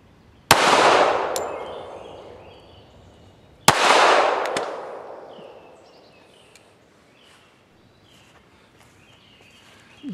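Two sharp .45 ACP shots from a 1911 pistol fired outdoors at a one-liter water bottle, each a loud crack trailing into a long decaying echo, about three seconds apart, with no talk.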